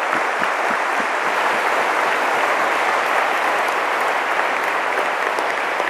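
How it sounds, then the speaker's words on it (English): An audience at a summer university graduation ceremony applauds graduates who are receiving degrees in absentia. The applause is dense and sustained, with loud, even clapping filling the whole stretch. "Can we give them a big hand of applause as well,"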